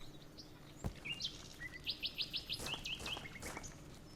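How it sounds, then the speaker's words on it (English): Birdsong in the Colony Survival video game: a quiet outdoor ambience broken by a clear, rapid run of high chirps and a few scattered tweets, fairly faint and with no voices. "What lovely bird sounds this game has."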